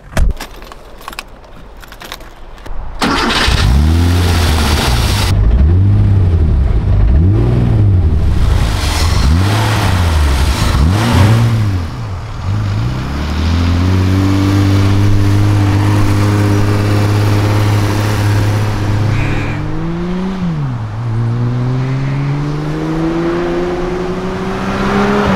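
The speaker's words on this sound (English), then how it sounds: "so let's go for a drive, Scott." A classic Porsche engine cranks over after a jangle of keys, catches and settles into a loud idle, then revs up through several gears as the car pulls away, close and steady with no talking.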